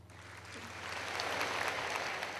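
Applause for the Prime Minister fills an event hall, many hands clapping in a dense, steady wash that swells louder partway through and holds, with no voices over it.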